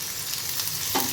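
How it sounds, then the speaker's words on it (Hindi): Tempering spices for dal sizzle and crackle in hot oil, a bright, close frying hiss that swells briefly near the end. "तड़का लगा दिया, दाल में पलट दिया"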